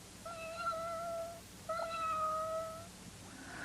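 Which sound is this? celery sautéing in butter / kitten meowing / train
kitten meowing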